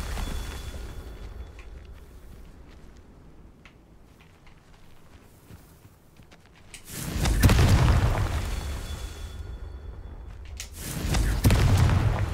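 A Confringo fire spell explodes in the Hogwarts Legacy video game: two loud, deep booms with rumbling tails, the first in the middle and the second near the end, over quiet game ambience.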